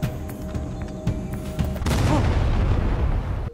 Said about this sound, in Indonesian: terdapat bom meledak dari pintu tersebut